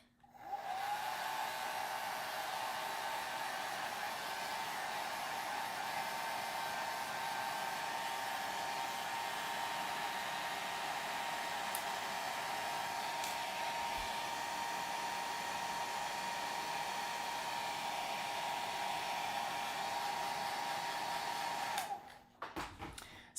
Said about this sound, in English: Let me just hit that with a dryer really quick.